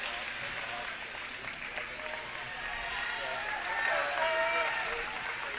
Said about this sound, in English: And Sarah Allen getting a good applause, the freshman.